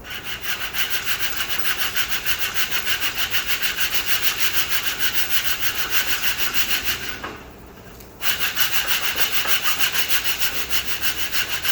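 Steady rhythmic hand sanding across a dented fender on a 1991 Jeep Cherokee Limited, a loud close scratchy back-and-forth rasp that pauses briefly before resuming.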